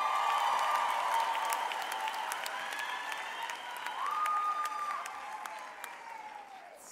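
Moderate applause from a graduation ceremony crowd at a university autumn graduation, steady clapping heard at some distance with faint cheering and tonal sounds drifting through it.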